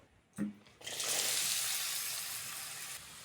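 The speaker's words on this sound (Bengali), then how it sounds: "প্রথমেই আলুটা ভেজে নেব। কেটে ধুয়ে রাখা আলুটা দিয়ে দেব।" Cut, washed potatoes drop into hot oil with a short thump, then a loud, steady frying hiss swells and holds close by to the end, with no talking.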